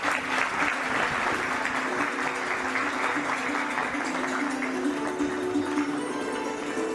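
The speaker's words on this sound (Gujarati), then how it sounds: "ખૂબ તાળીઓથી વધાવી લો." Sustained audience applause fills a community get-together hall at a Leuva Patidar Samaj gathering in Navsari, steady and dense throughout with a faint background hum.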